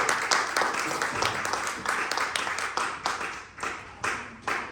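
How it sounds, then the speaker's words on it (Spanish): A church congregation at an evangelization service claps in a lively round of applause, many hands at first, then thinning into rhythmic bursts of clapping toward the end. "Vamos a darle un aplauso al Padre, al Hijo y al Espíritu Santo."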